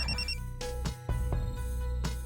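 A telephone rings indoors with a repeated electronic ringtone, several bright chiming bursts at a steady pace across about two seconds, fairly loud and with no talking over it.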